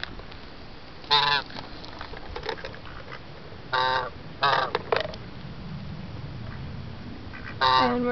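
Stray geese at a forest preserve honk in several loud, close bursts spaced apart, with quiet outdoor background between the calls.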